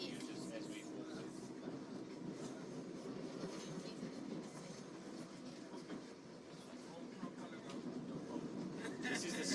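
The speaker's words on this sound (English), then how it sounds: "This is the second train." A commuter train on the Kwa Mashu to Durban line rolls along with a continuous rumble and rattle, wheels clacking over rail joints, while voices murmur in the background.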